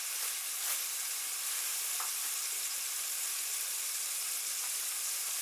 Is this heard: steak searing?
yes